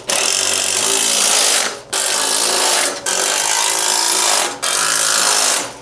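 Impact wrench driving nuts onto the bolts of a CFMOTO plow plate, four loud rattling bursts of hammering separated by short pauses, close up with no talking.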